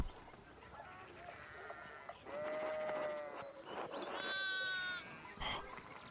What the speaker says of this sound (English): One of the fence rails fell and the sheep started hopping it.